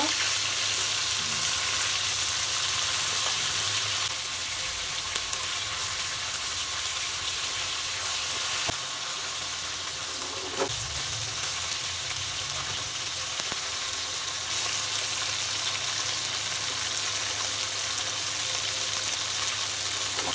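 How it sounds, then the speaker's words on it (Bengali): Pieces of shol fish fry in hot oil in a pan, giving a steady, bright sizzle and crackle throughout, close and fairly even, with occasional small pops and no talking. "মাছগুলো ভাজা হয়ে গেছে আমি এবার উঠাই দেবো"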